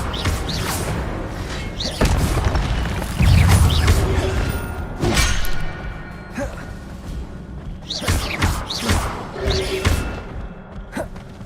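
Spells cast in Hogwarts Legacy combat, with the Incendio fire spell among them: a run of sharp whooshing bursts and thuds, some near and loud, spaced irregularly through busy game action.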